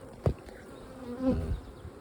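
Honey bees buzz around a frame of capped brood pulled from a hive, a soft, close droning hum with a brief louder pass, faint over a low background hiss.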